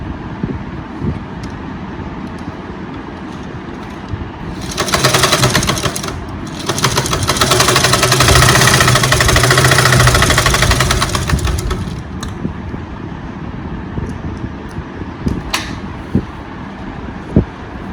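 A sewing machine stitches the seam of a lined top, running steadily for about seven seconds with a brief pause near the start, standing out over low room noise before it stops.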